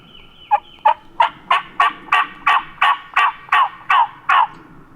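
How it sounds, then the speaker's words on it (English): A wild turkey gobbles close by, a loud run of about a dozen rapid, evenly spaced rattling calls in one burst, with nothing else heard over a quiet outdoor background. "There's a turkey right here."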